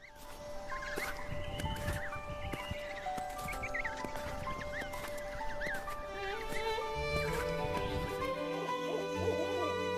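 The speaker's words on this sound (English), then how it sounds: "Owl." An owl hoots amid a dense wildlife soundscape of chirping birds and other animal calls. The layered, continuous sound lasts about ten seconds at a moderate level.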